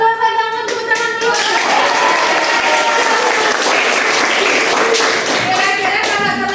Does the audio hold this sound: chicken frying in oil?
no